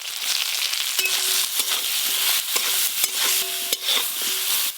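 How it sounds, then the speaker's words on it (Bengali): Brinjal pieces fry in hot oil with turmeric and salt, a steady bright sizzle broken by repeated scraping clinks of a spatula stirring them around the pan, close and fairly loud with no voices. "বেগুনগুলো ভালো করে ভাজা ভাজা হয়ে গেছে"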